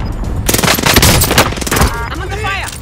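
Rapid gunfire bursts from Call of Duty Warzone on Rebirth Island crackle loudly and densely for about two seconds, then fade into a ringing electronic tone with sweeping warbles.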